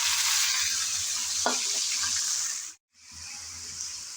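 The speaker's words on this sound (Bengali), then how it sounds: "এখন দিয়ে দেব আগে থেকে রেডি করে রাখা শাক।" Pumpkin greens go into a pan of frying garlic and chilies. A loud, close, steady sizzle carries a brief stirring clatter and cuts out for a moment near the end before resuming, with no talking.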